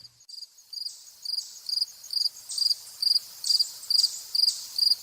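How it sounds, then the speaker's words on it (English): Fall field crickets chirping on an August night at Platt Nature Center in Killingworth, Connecticut: a steady, regular series of bright pulsed chirps, close and clear, alone in a quiet background. "Fall field crickets in August."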